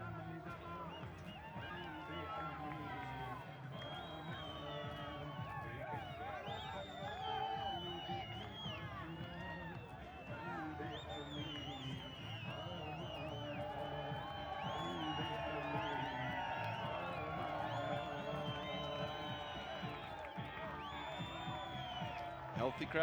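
A large, lively crowd at a cricket stadium during a must-win knockout qualifier keeps up a steady roar of cheering and whooping after a wicket falls, dense and continuous throughout.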